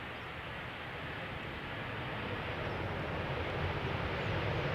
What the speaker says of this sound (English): We've got a 737 coming in from Bergen, KLM flight 1164, 737-800